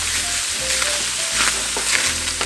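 Onions browning in a pan before going into a crock pot for queso dip, a loud, close, continuous sizzle with a low steady hum beneath and occasional scrapes as they are stirred.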